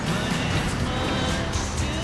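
A cheap, worn-out car in GTA 5 Online drives along with a steady, dense engine and road roar that fills the whole moment without letup, close and fairly loud, with no one talking.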